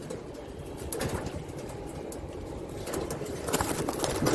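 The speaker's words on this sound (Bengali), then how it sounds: "এটাও কালো পায়রা দেখুন" Black pigeons kept in a home loft coo softly amid faint wing flutters and rustling, a continuous low murmur with a few brighter bursts near the end.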